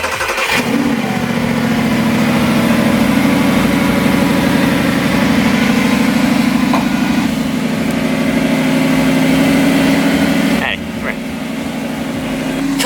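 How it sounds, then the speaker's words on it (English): A third-generation Toyota Tacoma cranks over on a cold start and settles into a steady, meaty idle, its mid-pitched engine rumble held close and loud for about ten seconds with a slight shift near the end. "It is time for a cold start. First cold start."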